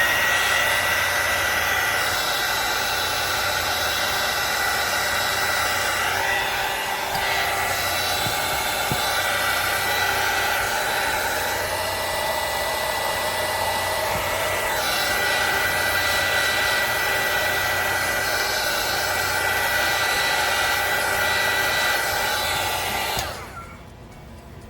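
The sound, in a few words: hair dryer drying a wood craft project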